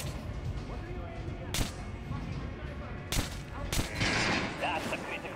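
Gunfire at training dummies in Metro: Last Light Redux rings out as three sharp, separate shots spaced a second or so apart, with a voice talking quietly underneath.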